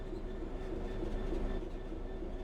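Simulated train in Train Sim World 3 rolling and braking toward a stop, a dense low rumble with faint wheel and rail noise and a sustained tonal hum, steady and close throughout.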